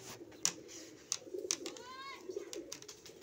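Soft cooing of Punjabi high-flyer pigeons close by, with a few sharp taps and faint flutters over a quiet low background.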